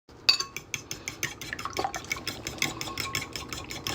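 Eggs beaten with Cholula hot sauce and heavy cream, a quick steady run of light clinking whisk strokes against a bowl, close and fairly quiet, with no talking.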